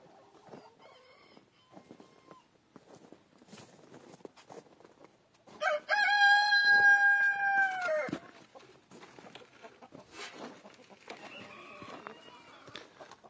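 Chickens cluck softly on a farm before a rooster lets out one loud, close crow lasting about two seconds, followed by more scattered clucking and faint bird sounds.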